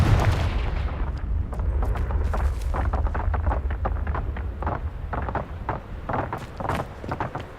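The Confringo blasting spell in Hogwarts Legacy goes off as a run of booming blasts and sharp cracks, one after another over a dense rumbling bed, loud and close with no voices.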